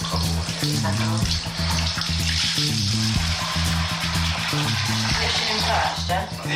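Water runs steadily from a kitchen tap, a continuous splashing rush that lasts throughout, partly under voices and low tonal background sounds.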